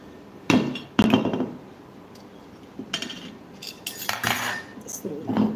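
Metal spoon clinking against a plate while food is dished out, a few sharp strikes near the start and scattered lighter clinks later, close and distinct.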